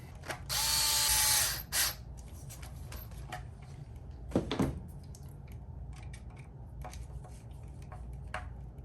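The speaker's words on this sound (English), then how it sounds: "let's go ahead and get our top screws put in" A power driver buzzes briefly as top screws go into an RC car's differential cover on a Traxxas Rustler 4X4 VXL, followed by small clicks and handling noises of plastic parts, close and fairly quiet.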